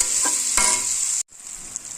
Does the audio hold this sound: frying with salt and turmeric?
yes